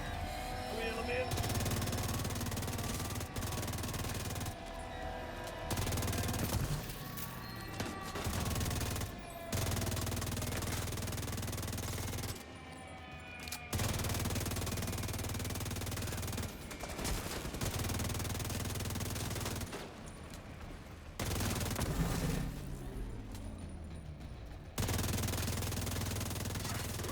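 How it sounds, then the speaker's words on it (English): Turret gunfire at the main gate in a video game: repeated bursts of automatic fire mixed into a busy game soundtrack, with a voice talking over it. "We're pinned down by turrets at the main gate!"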